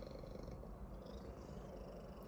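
A pet cat purrs close by in a steady, low rumbling drone that carries on without a break, with no talking over it.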